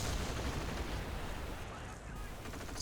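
Assault grenades and gunfire in a WWII strategy video game, a dense continuous rumble of blasts and shooting with no pauses, loud and busy.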